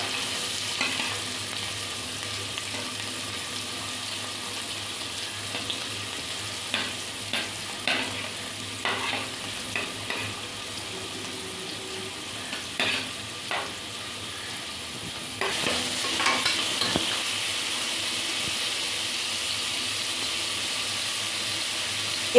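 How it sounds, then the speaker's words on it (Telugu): Onions frying in oil in a pressure cooker pot, a steady low sizzle with scattered stirring clinks and scrapes, close and fairly quiet, with no talking. "దాంట్లో ఆయిల్ వేసుకోవాలి. చూడండి ఆనియన్స్ వేస్తున్నాను నేను."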